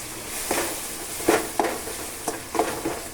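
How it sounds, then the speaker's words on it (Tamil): Masala stirred through hot oil with half-cooked onions in a pan, a continuous sizzle broken by several distinct scraping stir strokes, close and fairly loud. "இந்த சமயத்தில் அந்த மசாலா கொட்டிக்குவேன்."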